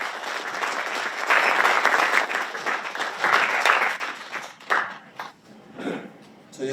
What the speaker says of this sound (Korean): 예, 큰 박수 부탁드리겠습니다.